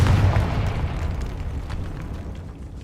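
A fiery Confringo spell explosion from Hogwarts Legacy booms loudly at the start, then its deep rumble slowly fades away with no talking.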